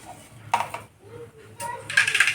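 Mustard seeds hit hot oil in a home kitchen, giving sharp crackling, popping bursts that swell toward the end, alongside a quieter earlier burst.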